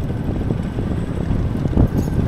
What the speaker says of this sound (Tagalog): Mahangin mga kapsat, pasensya na.